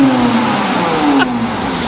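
A standard Porsche 987 Boxster S flat-six engine, warmed up, revs with a steady mid-pitched drone and a slowly falling tone, loud and close, with a brief shift partway through.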